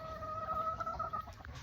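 Soft clucking from chickens nearby over a low background rumble, brief and fairly quiet, as they are offered leftover grated coconut pulp.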